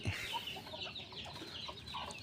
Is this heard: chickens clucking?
yes